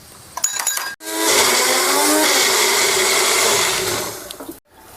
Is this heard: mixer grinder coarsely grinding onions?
yes